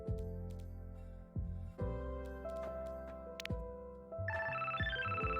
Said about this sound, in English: Your optimistic near future cell phone Cupid is texting